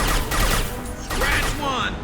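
Gunfire from a firefight in the shooter game Mass Effect 2 on Insanity difficulty, loud rapid bursts with crashing impacts, mixed with shouted voices of the game characters.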